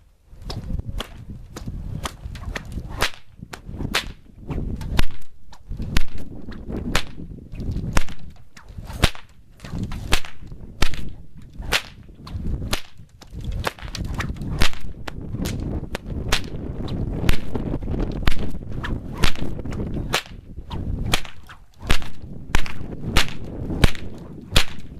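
A whip is cracked over and over in a fast, uneven series of sharp, loud snaps. Some cracks come in quick pairs or bursts, with softer whooshes from the swinging lash between them.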